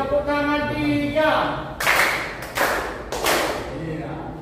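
Group of students in a junior high classroom clap in rhythm, three sharp broadband claps in quick succession following a spoken instruction from a teacher.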